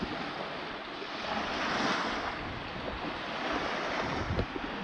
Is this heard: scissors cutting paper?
no